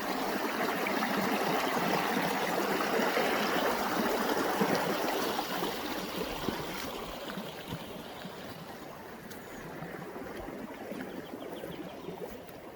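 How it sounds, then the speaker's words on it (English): A creek runs steadily behind a house, a broad continuous rush of flowing water that is louder at first and eases slightly as it goes, with no voices. "Yeah, the water's running good back here today."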